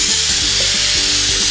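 Tadka tempering for langar-style dal sizzles steadily in a hot pan, a dense, continuous frying crackle that stays close and loud throughout with faint stirring knocks underneath.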